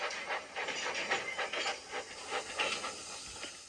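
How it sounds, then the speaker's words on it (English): Steam engine puffing as a storybook sound effect, a soft rhythmic series of breathy chuffs and hisses that rise and fall evenly at a moderate distance, with no voices. "Edward picked up steam and proudly puffed past Spencer"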